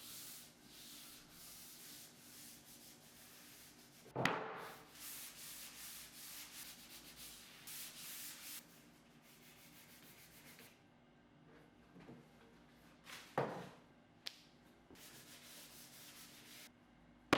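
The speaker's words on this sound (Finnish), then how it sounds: "Aloitan hiomalla kaikki pinnat 400, sitten 600 ja lopuksi 1000 hiomapaperilla." Fine 400, 600 and 1000 grit sandpaper worked by hand across a mid-century dining table's wooden surfaces gives faint, rhythmic rubbing strokes in bursts, separated by short pauses.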